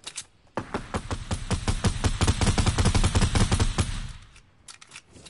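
Sustained rapid automatic gunfire from Fortnite, a loud, steady burst of closely spaced shots lasting a few seconds before cutting off, with brief scattered shots after.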